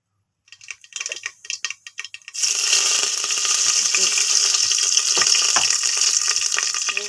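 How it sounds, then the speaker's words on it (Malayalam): Mustard seeds splutter in hot coconut oil for a Kottayam-style liver roast: a few soft scattered pops, then a loud, dense, steady crackling sizzle from about two seconds onward, heard alone. "നമുക്ക് കടുവിടാം"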